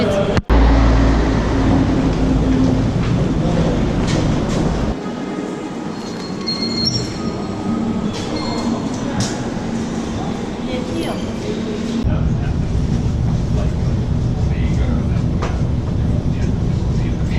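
Onboard a moving commuter train in Sydney, Australia: steady loud rumble of wheels on rails with intermittent squealing and clattering, the tone shifting partway through, while a voice is heard in the background.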